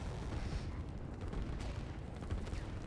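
Artillery firing on a tank in the Line War video game: a continuous rumble of booms and rapid blasts, dense and heavy, with no talking.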